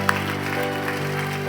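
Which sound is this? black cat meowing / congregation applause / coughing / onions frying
congregation applause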